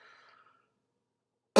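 A single sharp cough from a tired man, loud and close, comes after a faint, brief murmur and a stretch of near silence.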